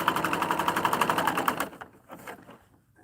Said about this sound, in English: Well, Patsy, that's the great thing about a serger.